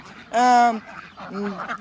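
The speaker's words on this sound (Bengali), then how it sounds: "3 থেকে 4 হাজার হাঁস এখানে রয়েছে" Two loud, nasal duck quacks sound close by on a riverside duck farm of 3,000 to 4,000 ducks, the first longer and stronger, with faint flock noise in the background.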